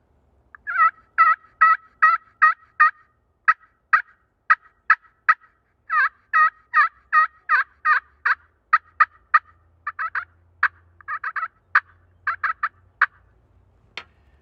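A friction turkey call played with a rosewood striker, run through a long series of yelps and clucks in rhythmic bursts, loud and close, with short pauses between runs.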